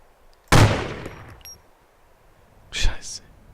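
A single sharp gunshot in the video game DayZ cracks loudly and decays, followed a couple of seconds later by a fainter distant shot or impact.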